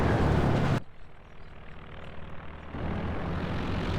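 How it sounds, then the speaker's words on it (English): A recon plane flies over a battlefield in Company of Heroes 2, a loud engine drone that drops suddenly to a quieter hum, then swells again for the last seconds, with no talk. "Recon plane up now for Convenant"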